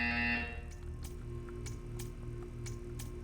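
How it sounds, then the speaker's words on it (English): A short, harsh buzzer from the video game Portal sounds for about half a second at the start, followed by a few soft, evenly spaced clicks over a quiet mechanical hum. "When you hear the buzzer, stare at the art."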